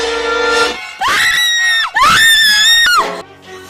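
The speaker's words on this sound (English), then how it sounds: "She's gonna scream and scream." A woman lets out repeated long, piercing screams in a Friday the 13th horror fan film, three loud sustained wails with brief breaths between, close and alone.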